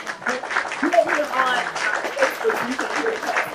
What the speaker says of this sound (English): Yes, Lavanda, I'm going to give you some claps.